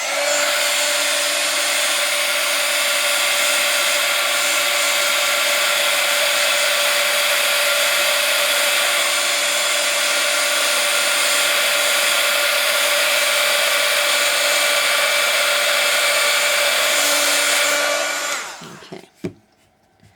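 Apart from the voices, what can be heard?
hair dryer drying mixed media artwork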